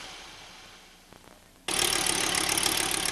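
A car engine fitted with Bosch KE-Jetronic fuel injection idles steadily, first faint and muffled, then suddenly loud and close with a continuous even rumble and hiss.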